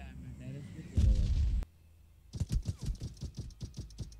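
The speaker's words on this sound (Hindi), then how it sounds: "ओ दे गोली चला रहा है, गोली मार गोली मार गोली मार।" Gunfire in the PUBG Mobile battle royale game: a short loud blast, then a rapid string of repeated shots in an uneven burst.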